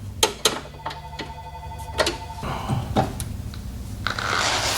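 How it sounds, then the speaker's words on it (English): A telephone rings in a garage where an old 1974 Ford Capri is under repair, with repeated bursts of electronic ringing standing out against tool clatter and shop noise. "Hey, phone."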